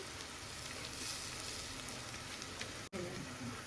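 Onions, ginger-garlic paste and curry leaves frying in a pan, a soft continuous sizzle and crackle, faint and even, with one brief dropout near the end.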